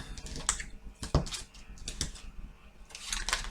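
A tarot card deck is cut and shuffled by hand, giving a few quick papery riffles and slaps with a sharp tap near the middle, close and isolated, with no talk.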